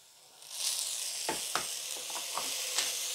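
Rice and onion fry in a pan for a no-lentil khichuri, giving a steady broadband sizzle with a few brief stirring scrapes and clicks, close and moderately loud.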